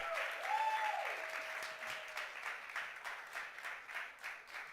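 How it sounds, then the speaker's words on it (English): Faint, distant applause from an audience at the closing event of a PropTech innovation camp, steady and soft throughout, with a brief tonal sweep near the start. "Can we get some applause too?"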